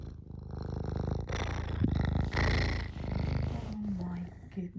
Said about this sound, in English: so Eric is in purr mode.